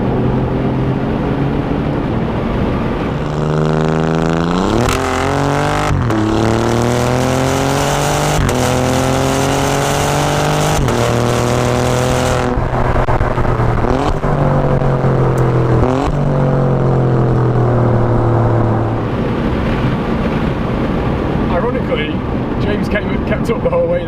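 An Alfa Romeo Giulia Quadrifoglio's engine revs up through a series of rising pulls with gear changes between them, loud and close inside the cabin, while people talk over the roar.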